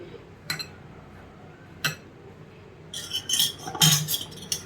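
A spoon scrapes and clinks against a bowl while mixing peanut laddu mixture, a few sharp metallic taps followed by a busier cluster of clinks and scraping, close and moderately loud with no talking.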